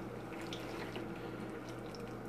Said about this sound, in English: So all I'm going to do is just take this guy and just pour it over the breadcrumbs.